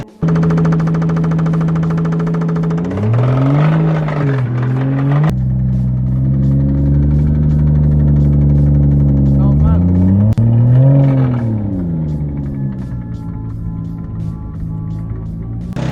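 Rebuilt turbocharged Lexus IS200 engine revving on its first start after an engine swap, loud and close, with repeated rising and falling revs over a steady idle drone.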